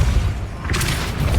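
A Depulso spell goes off in Hogwarts Legacy as a short, heavy booming thump with a burst of rushing noise, loud and close, with no talking over it.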